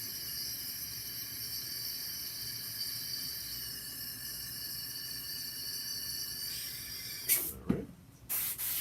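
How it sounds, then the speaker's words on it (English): Airbrush being sprayed out for cleaning while painting a model, a steady thin high hiss that runs for several seconds and then stops with a couple of short sputtering bursts at the end. "Just clean it out the airbrush."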